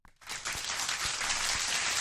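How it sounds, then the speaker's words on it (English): A studio audience breaks into applause for a first-time guest on a talk show. The dense, even clapping swells in quickly after a brief silence and stays loud to the end. "Let's give a warm round of applause"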